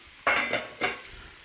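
Lamb mince dropped into a hot pan with herbs, onions and garlic for a lamb and mint pie: two sharp clattering bursts of meat and utensil hitting the pan, each followed by a brief broadband sizzle, with no talk.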